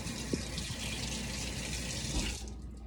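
Cold tap water gushes steadily from a faucet into a sink as a lump of homemade butter is rinsed, a close, continuous splashing flow that cuts off just before the end.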